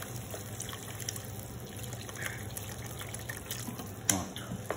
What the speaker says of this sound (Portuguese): Agora vamos acrescentar um pouquinho de água.